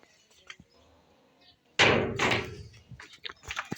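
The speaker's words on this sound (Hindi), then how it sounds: "दरवाज़ा बंद करो बेटा।" A door slams shut with a loud, sharp bang midway, after quiet moments with faint taps, followed by rattling and scattered clicks as things settle.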